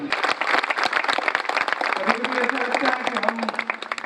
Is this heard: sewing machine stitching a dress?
no